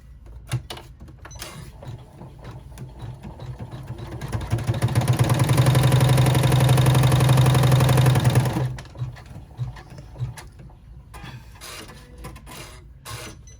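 A sewing machine top stitches a rucksack flap in one loud, steady run of rapid stitching lasting a few seconds. Quieter handling sounds come before and after it.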